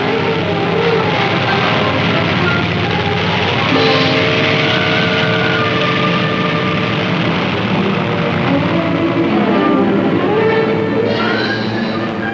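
Wartime aircraft towing gliders loaded with airborne troops over southern France toward Le Muy give a loud, steady, droning engine roar with a layered tonal hum that holds unbroken throughout.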